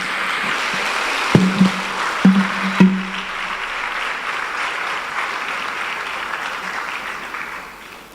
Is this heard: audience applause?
yes